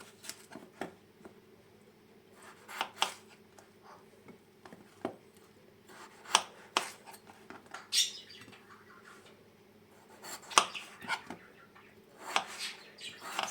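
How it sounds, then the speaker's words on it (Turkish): Knife cutting peeled potatoes into wedges on a cutting board for an oven-baked chicken and vegetable dish: irregular sharp taps and clicks, close and fairly quiet, with faint rustling between cuts. "Patateslerimin kabuklarını soydum. Elma dilim olacak şekilde keseceğim."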